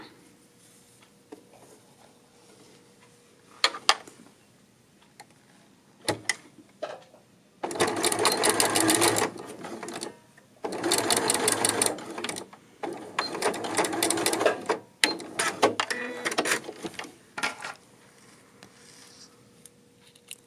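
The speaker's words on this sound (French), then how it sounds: "je vais venir faire ma couture au point droit" A sewing machine runs a straight-stitch seam in several bursts of fast, close whirring, separated by quiet gaps with faint handling clicks, no speech.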